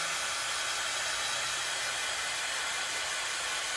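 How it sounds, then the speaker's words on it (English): A craft heat tool blows continuously to dry a project, giving a steady, airy hiss like a hair dryer, even and unbroken throughout. "So I'm just going in with my heat tool."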